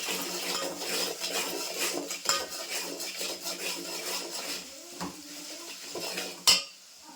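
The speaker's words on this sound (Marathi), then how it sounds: "ते हळद टाकून घेते. व्यवस्थित मिक्स करून घेते." Puran being mixed with turmeric in a pot, heard as steady metallic scraping and clinking of a spoon against the vessel. A sharper clank comes near the end, and no one speaks.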